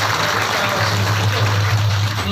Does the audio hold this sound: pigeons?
no